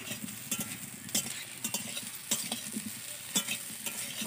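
Boiled white potatoes, without turmeric, fry in mustard oil with a soft continuous sizzle, while a spatula scrapes and taps the pan in repeated short strokes.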